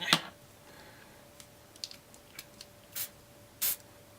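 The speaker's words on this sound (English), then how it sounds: "So I'll give the blue a little bit of a spray." Several short, sharp hissing bursts from a spray bottle spraying blue paint onto a recycled box journal, faint and close, with a quiet pause between each spritz and the last one slightly longer.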